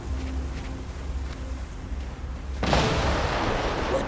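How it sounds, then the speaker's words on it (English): Set charges detonate in the video game Guild Wars 2, a sudden loud burst of explosions erupting midway and rolling on as a dense, sustained roar after a quieter stretch of game ambience. "Those explosions should grab their attention."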